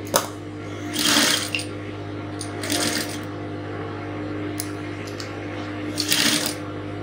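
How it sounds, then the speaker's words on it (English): Sewing machine stitching a Victorian corset top with busk, lacing and modesty panels, a steady low motor hum overlaid by several short bursts of rapid needle stitching with pauses between, close and moderately loud. "So I'll move over to the next one and sew."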